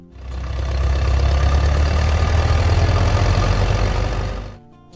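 Case IH Farmall M tractor from 1939 with its engine running at idle, a loud, steady low rumble with a fast even pulse that holds for over four seconds before cutting off.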